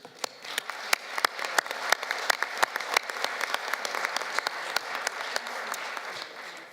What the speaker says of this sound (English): big applause